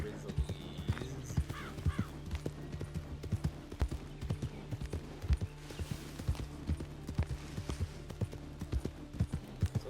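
Horse hooves clip-clop steadily during a ride in Red Dead Redemption 2, a rhythmic trotting beat over game ambience, with a person talking over it throughout.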